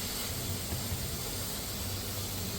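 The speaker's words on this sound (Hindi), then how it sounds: "एक प्रेशर कुकर की है, उसमें सालन भी बन रहा है साथ साथ" A pressure cooker with curry (salan) cooking inside hisses in a home kitchen, a faint, steady, unbroken hiss.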